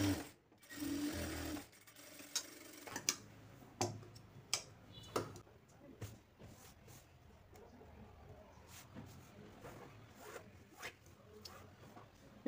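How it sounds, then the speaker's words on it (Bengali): Home sewing machine stitching the side seam of a garment sleeve, starting with a loud continuous whir for about two seconds, then quieter intermittent clicks and short mechanical bursts as the fabric is handled. "এখন আপনারা হাতার যে সাইড সেলাইটি আছে এই সাইড সেলাই যেভাবে দেওয়া লাগে আমিও ঠিক ওইভাবে দিয়ে দেবো"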